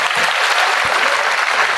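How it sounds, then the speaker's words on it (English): A hall full of people at a first-year university orientation breaks into a brief burst of dense, steady clapping, loud and close. "So a big round of applause."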